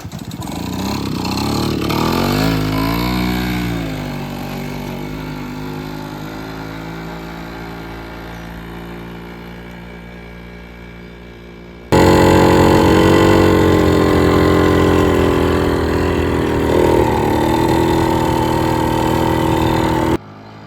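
A restored 1980 Yamaha Chappy moped engine runs steadily, its pitch rising and falling under the throttle, then jumps to a louder, harsher, close-up running note for the final stretch.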